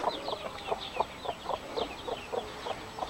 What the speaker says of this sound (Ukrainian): Оце ці монстри американські пташки, індійці.